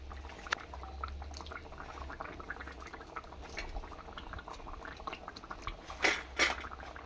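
A thin rui fish curry with potato and ridge gourd simmers in a pot, giving a soft, steady bubbling with a few louder gurgles near the end.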